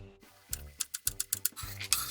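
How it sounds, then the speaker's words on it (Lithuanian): A knife dices parsley root into small cubes on a cutting board while soup is being prepared, about a dozen crisp, quick chops in a steady, slightly quickening rhythm, close and clear, with no talk. "Susipjaustom petražolės šaknį mažais kubeliais."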